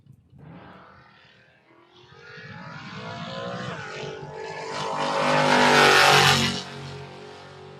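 Chevrolet Nova and Ford Mustang drag racing cars launch and roar down the strip, engine noise building from a rumble to a loud, broad high-revving blast that peaks near the end, then drops away.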